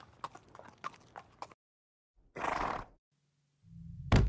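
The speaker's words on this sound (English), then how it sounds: "Then Tracy came in with a horse as bait." Horse walking in an animated horror story, hooves clip-clopping in a quick, even rhythm for about a second and a half before falling silent, followed by a few separate louder bursts.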